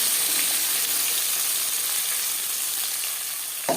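Tomato paste hits hot oil in a frying pan, producing a loud, steady hiss of sizzling that holds nearly unchanged throughout and ends with a slight clink near the end, with no speech.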